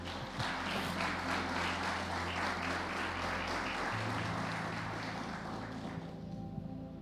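Church congregation applauding steadily at a moderate distance, a dense continuous wash of clapping with a low steady hum beneath, tapering near the end.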